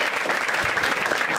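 Brief burst of audience clapping at a live Marathi stand-up comedy show, steady and fairly close for about a second and a half.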